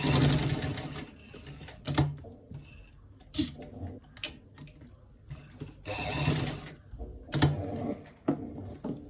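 Sewing machine stitching a roll collar in short bursts of rapid mechanical clatter separated by quiet pauses, close and fairly loud.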